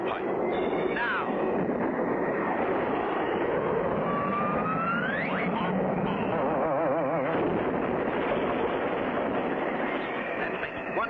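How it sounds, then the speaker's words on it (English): A cartoon airplane in an air race roars steadily as it readies for takeoff, engine noise loud and continuous with a rising whine partway through, alone without voices. "Frenchie Fontaine waits for the takeoff signal"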